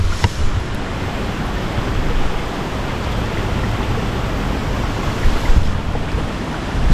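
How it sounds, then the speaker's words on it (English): Rushing water at Jembong Waterfall in Buleleng, Bali, a dense continuous roar holding steady throughout with no talk, heard up close and loud. "So this afternoon I'm here at a place called Jembong Waterfall."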